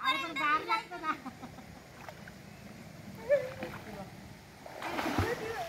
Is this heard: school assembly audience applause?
no